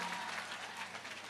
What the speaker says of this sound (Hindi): एपी ग्रुप को जोरदार ताली बजा के धन्यवाद दो